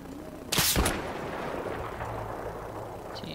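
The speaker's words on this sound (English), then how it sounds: "I have no idea where this guy's shooting from." A single loud gunshot from a sniper rifle in the first-person shooter Battlefield 3 cracks out sharply, followed by a lingering rumble and faint battlefield noise.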